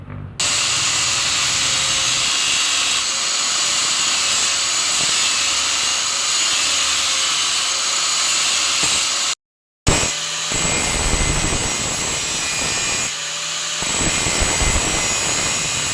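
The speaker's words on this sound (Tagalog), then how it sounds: "Ingat lang po kayo sa paggamit ng grinder for safety." A grinder shapes a homemade crossbow trigger, giving a loud steady whine that holds for most of the stretch, cuts out for a moment, then resumes with rougher grinding against the metal.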